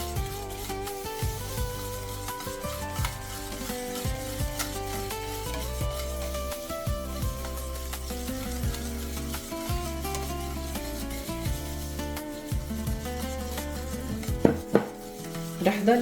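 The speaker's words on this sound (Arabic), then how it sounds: "رح نزل السميد وكمان بضل بحرك." Semolina is stirred into milk heating in a pot for a Lebanese layali dessert, a continuous scraping and rubbing of a spoon against the pot, steady and close, with faint cooking sounds behind.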